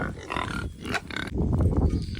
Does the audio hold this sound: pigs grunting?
yes